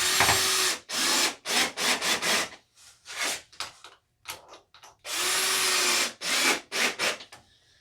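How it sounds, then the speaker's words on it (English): A power drill drives screws through polyiso foam board in a basement install, with a few loud bursts of whirring, each rising and stopping abruptly, close up and without talk. "Screw this sucker down."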